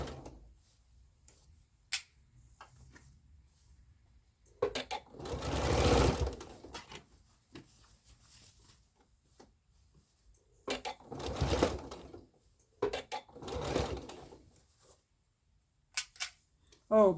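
A sewing machine stitches a dress in short separate bursts of whirring, fast needle rattle between quiet pauses, close and fairly loud, with occasional small clicks and handling noises.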